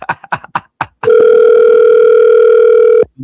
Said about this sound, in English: Somebody phone ringing.